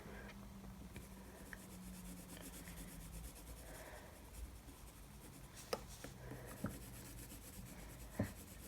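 Faint, steady scratching of a pencil lightly colouring in a drawing, a continuous soft rub with a few small taps, heard alone and close.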